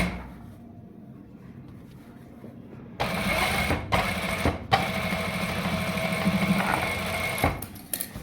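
A sewing machine stitches down a folded pocket flap on commando trousers, running in a close, steady mechanical whir for several seconds with short pauses and clunks between stretches of stitching, after a quiet opening.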